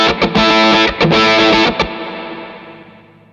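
A heavily distorted electric guitar runs through an Amplitube Orange Thunderverb 200 "Storm" preset, playing loud broken-up chords and stabs for under two seconds before a long reverb tail fades out alone.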